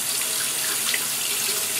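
Warm water runs steadily from a tap onto a wet shaving brush during lathering, a continuous close hiss and splash with no talking.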